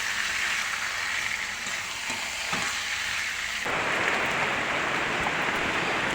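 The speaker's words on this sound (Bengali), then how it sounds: "একদিকে দেখো বৃষ্টি শুরু হয়ে গিয়েছে" Dense, steady hiss of heavy rain that grows fuller and louder partway through, with a few soft knocks early on.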